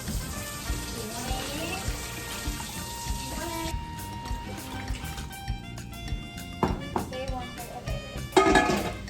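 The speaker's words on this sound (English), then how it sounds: "I'm gonna run in some hot water." Hot water runs from a kitchen tap into a canning pot for sweet pickle relish, a steady rushing stream for about four seconds that then cuts off, followed by light clatter and faint background sounds.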